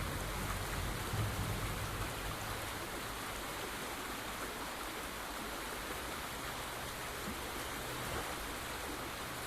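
Steady, dense rush of flowing water at a waterfall in the video game A New Beginning, a broad continuous roar holding even throughout with no talk.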